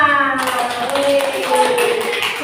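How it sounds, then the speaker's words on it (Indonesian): Schoolchildren in an Indonesian classroom clap together in quick taps, mixed with young voices and a sung tone at the start. "Beri tepuk tangan untuk kita semua."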